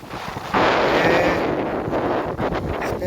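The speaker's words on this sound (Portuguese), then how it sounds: "Passar esse vendaval." A strong gale batters the microphone outdoors by the water, a loud, steady roaring rush of wind that sets in after a brief lull and keeps buffeting without a break.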